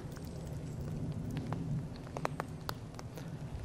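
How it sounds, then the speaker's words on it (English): Faint, steady rain patters outdoors, with scattered drops tapping sharply on nearby surfaces. "And it's starting to rain again."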